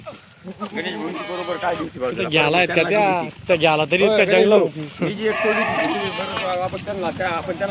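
Kathiawadi goats bleat with wavering cries while someone talks loudly over them the whole time.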